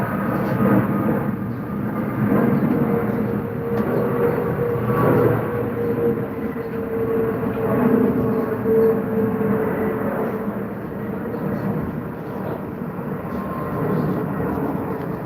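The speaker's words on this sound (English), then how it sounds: "That's the 350, I guess. The Airbus A350." An Airbus A350 passes overhead with a loud, continuous jet roar that swells and eases in slow waves, steady and broad throughout.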